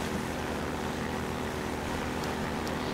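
A fan-driven airboat in Half-Life 2 roars with a steady, loud engine drone and rushing air on water, unbroken throughout with no speech.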